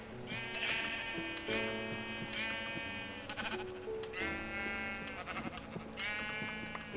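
Sheep in Minecraft bleating repeatedly after being punched by a player's fist, a series of loud close nasal bleats in a steady rhythm over faint game background.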